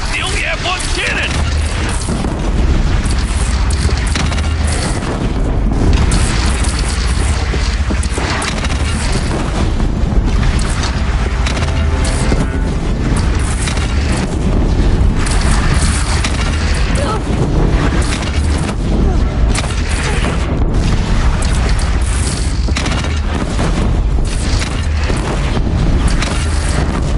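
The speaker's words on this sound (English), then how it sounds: "They only have one cannon!" Cannon fire in the PS4 game Horizon Zero Dawn brings heavy booming explosions, one after another, loud and continuous amid battle noise, with voices talking over them.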